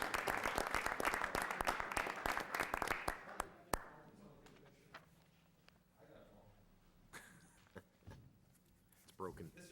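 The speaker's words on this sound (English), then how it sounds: "let's give them another round of applause" A crowd at a city council meeting breaks into a round of applause for corporate partners, lively for a few seconds before fading, followed by quieter room sounds and scattered speech.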